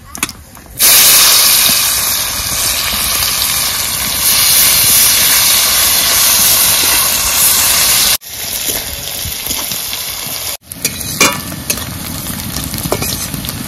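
Onions fry loudly in hot fish-frying oil with cumin, bay leaf, cloves, cardamom and cinnamon, village style. The steady close hiss of sizzling breaks off briefly twice.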